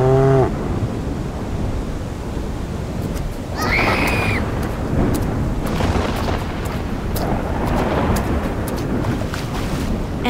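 Cows mooing in panic: a drawn-out low call at the start and another bellow a few seconds later, set against a steady rushing, wind-like background.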